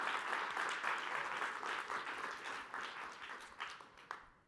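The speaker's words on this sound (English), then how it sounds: "Just do another round of applause for an amazing and insightful astronaut panel." An audience at a space exploration conference applauds an astronaut panel, a moderately distant round of many clapping hands that gradually thins and fades out near the end.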